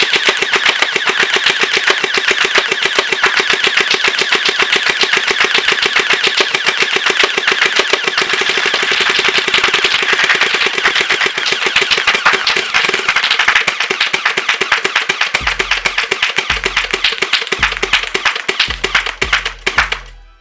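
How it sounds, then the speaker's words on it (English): A SplatRBall SRB370 gel blaster fires on full auto at a long-range target. The shots come as a dense, rapid, loud mechanical rattle that runs nonstop, then breaks into short separate bursts near the end. "Let's turn this on full auto, see how accurate this thing is."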